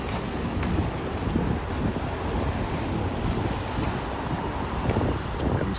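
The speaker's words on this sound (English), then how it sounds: "I definitely feel that wind picking up, no question" Steady wind blows at Cherry Beach on the Toronto lakeshore, a continuous broadband rush buffeting the microphone with slight gusty swells, loud and close, with no talk.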